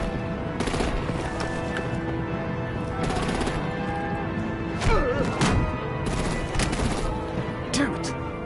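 Rapid bursts of heavy gunfire in the Batman Telltale video game, dense automatic firing mixed with booming impacts and thuds, loud and continuous with brief pauses between volleys.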